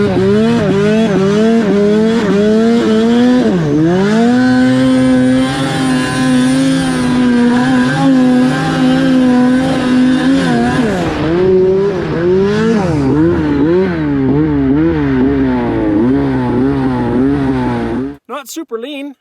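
A turbocharged two-stroke snowmobile engine on a hill-climber mod sled revs hard and loud for about eighteen seconds, pitch swooping up and down as it is held near wide open before cutting off abruptly.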